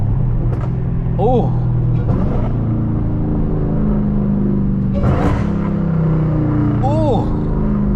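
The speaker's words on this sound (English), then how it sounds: "Those are some nasty downshifts." Loud, continuous engine roar from a 1000hp Dodge Hellcat Redeye, with revving swells and blips marking downshifts, while people talk excitedly close over it.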